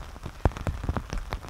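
Heavy rain falling outdoors in the bush, a steady patter with sharper individual drops striking a surface nearby, including one distinct louder hit, close and continuous with no talking.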